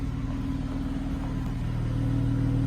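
A 2012 Dodge Challenger SXT idles, heard from behind the car, with a steady low rumbling engine drone and a faint slight rise near the end, close and continuous with no voices.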